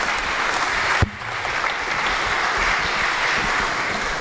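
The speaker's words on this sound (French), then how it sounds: "Vous pouvez les applaudir pour gagner votre place" Audience applause at a mentalism and magic show, continuous dense clapping throughout with one sharp thump near the start, no voices standing out.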